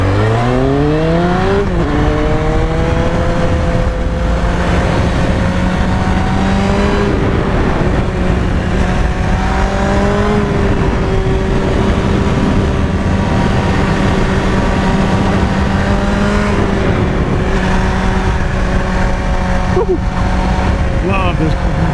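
Honda CBR954RR FireBlade motorcycle engine revving hard while riding, a loud, continuous engine tone rising sharply through the gears with steady wind roar, and a rider talking over it.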